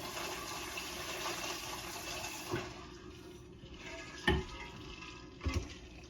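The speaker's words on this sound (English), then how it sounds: "Do the rinsing of your knife right now." A kitchen knife is rinsed under running water during geoduck prep, giving a steady broadband rush of water for about two and a half seconds, then a quieter trickle broken by a few brief clatters and splashes.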